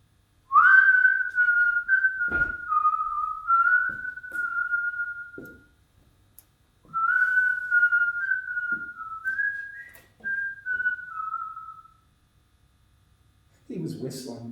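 A man whistles a wandering tune while strolling across open ground toward a concrete men's room with steps going down, the melody in two long phrases with a pause between, close and clear with no talk.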